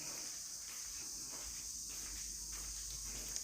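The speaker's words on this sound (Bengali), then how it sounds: "আপনাদেরকে একটু ঝিঝি পোকার আওয়াজ শোনাচ্ছি" Crickets at a village home give a steady high, shrill drone that carries through the whole stretch, constant and even with faint rustles underneath.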